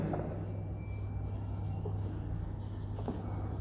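Pen writing a transaction onto paper for an accounting exercise, a soft continuous scratching close by over a steady low hum, with no talking.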